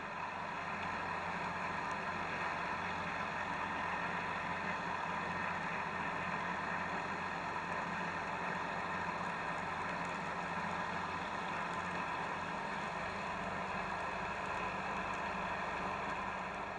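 A boat engine holds steady at 3,000 RPM during a Sarca Excel anchor pull test, giving a constant, loud droning hum with rushing water noise and no pauses or voices.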